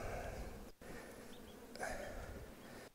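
A calm honeybee colony hums in an opened spring hive, a faint, steady buzzing drone with a couple of brief interruptions as frames are handled.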